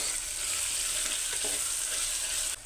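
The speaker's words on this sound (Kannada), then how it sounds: "ಈಗ ಕರಿಬೇವು ಹಾಕ್ತಾಯಿದ್ದೀನಿ. ಹಸಿಮೆಣಸಿನ್ಕಾಯಿ ಹಾಕ್ತಾಯಿದ್ದೀನಿ. ಅದನ್ನು ಫ್ರೈ ಮಾಡ್ಕೊಳ್ಳೋಣ." Curry leaves and green chillies fry in hot oil in a pan, giving a steady, close, loud sizzle and crackle that runs unbroken to the end.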